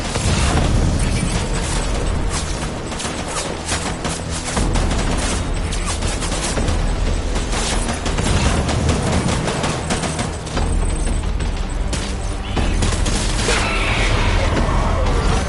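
Sustained gunfire in the video game Death Stranding, with dense, rapid bursts of shots and explosive pops crackling loud and close almost without pause for fifteen seconds, with brief dips between volleys.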